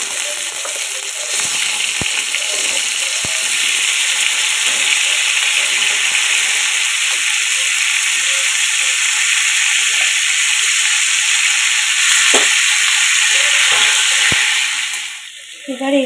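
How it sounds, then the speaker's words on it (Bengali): Potatoes and pumpkin frying in a small amount of oil, a loud, steady sizzle that holds close and constant throughout with occasional stirring knocks, briefly thinning near the end. "একদম অল্প একটু তেলে করছি, খুব বেশি অয়েল ইউজ করব না। তার মধ্যে আলু আর কুমড়োটা দিয়ে দিচ্ছি।"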